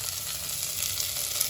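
Two large, coarsely chopped tomatoes for a carrot-tomato soup hit a hot pan with a loud, steady, close sizzle that holds unbroken throughout.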